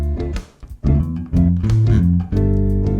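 An electric bass plays a Dorian mode line over a 2-5-1 backing track, with short plucked phrases, a brief gap, then sustained low notes under the accompaniment.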